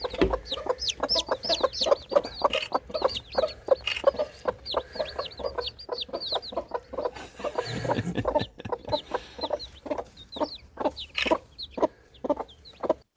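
A ginger hen with six newly hatched chicks clucks steadily, with a dense run of close, high chick peeps repeating throughout and louder hen clucks breaking in, all heard alone without talk.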